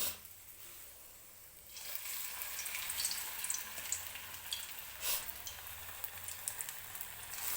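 Spinach bhaji fritters fry in hot oil over a lowered gas flame, a steady bright sizzle that swells after a quieter start, dotted with sharp pops and crackles, close and even throughout.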